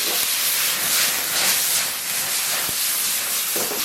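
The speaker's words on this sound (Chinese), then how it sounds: "然后把西红柿给它下里边" Tomatoes hit hot oil with scallion and garlic in a wok, giving a loud, continuous hissing sizzle close up, with a couple of faint knocks.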